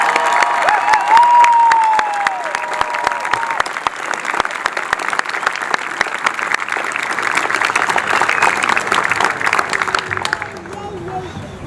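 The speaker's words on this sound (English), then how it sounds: "how about one last round of applause for Basic Police Academy Class 215" A crowd at a basic police academy graduation ceremony breaks into loud sustained applause with some cheering, clapping dense and strong before thinning and fading out near the end.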